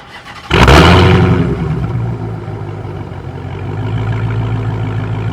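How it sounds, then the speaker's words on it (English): A Dodge Hellcat with a new aftermarket exhaust fires up with a loud sudden bark, then settles into a deep, rumbling idle that carries steadily to the end. "Let's start it from the key, just so y'all can hear the exhaust and the start up"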